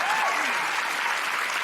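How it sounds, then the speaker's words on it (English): A live audience breaks into applause for a guest at a Canberra show, a dense, steady wash of clapping that holds at an even level, with a voice briefly audible over the start. "Big round of applause for Sue."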